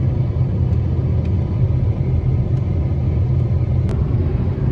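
A car on a cross-Canada road trip, driving in slow road traffic with a steady low engine and road rumble heard from inside, loud and unbroken, plus a few faint clicks.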